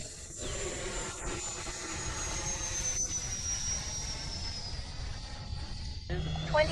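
A model airplane climbs out after takeoff at a flying field, its steady whining engine droning across the whole stretch with a faint rising tone, while people talk nearby.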